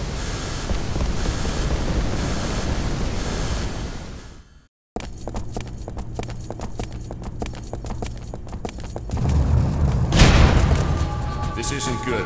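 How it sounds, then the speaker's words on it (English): Seawater surges and rumbles through a flooding area after an explosion in the video game The Bouncer, a loud continuous wash with a brief dropout midway and a swelling roar near the end, set against game music. "Seawater's rushing in from the explosion."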